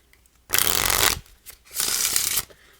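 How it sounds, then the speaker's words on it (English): Two quick riffling bursts of a RUN Playing Cards deck being shuffled, close and crisp, with a brief pause between them. "We can give the deck a shuffle."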